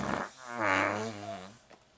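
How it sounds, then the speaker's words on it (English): A single drawn-out fart from a cartoon character, a low buzzing rasp lasting over a second with a faint sputter at the end, fairly close and alone with no talk. "Fart! On the light!"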